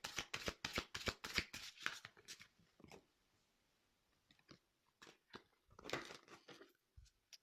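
Tarot cards are shuffled close up in quick, crisp riffling bursts, followed by softer slides and taps as single cards are drawn and laid down in a quiet room.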